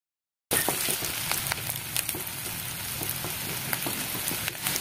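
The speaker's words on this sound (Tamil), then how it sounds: "அதனால ஸ்லிம்மில் வச்சு நம்ம ஃப்ரை பண்ணிட்டு இருக்கோம்" Garlic and onion frying in a pan on low heat for garlic kara chutney, a close, steady crackling sizzle with scattered pops that starts abruptly and continues without talk.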